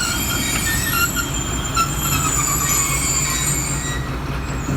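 Pakistani express train passing near Jhelum: loud, continuous rumble of wheels on rails with high squealing tones overhead, close by and sustained throughout, with no voices.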